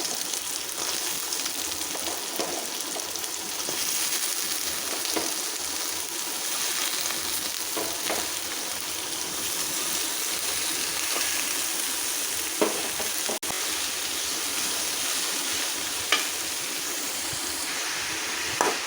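Chopped bottle gourd stir-fries in a pan with a steady, loud sizzle and hiss, broken by occasional scrapes and taps of the stirring spoon, close and without talk.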